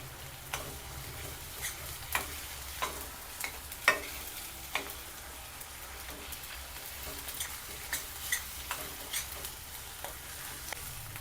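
Onion and coconut masala paste for a mackerel curry being sautéed, quiet steady frying with light regular scrapes and taps of a stirring spoon, faint and close, with no one talking.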